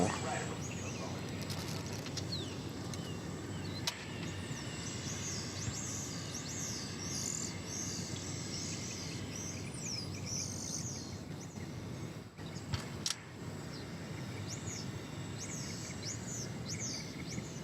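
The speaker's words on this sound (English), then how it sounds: "So you can hear the birds chirping." Birds chirp and call steadily outdoors at DFW Airport in early morning over a quiet, low background hum, the bright little calls repeating throughout.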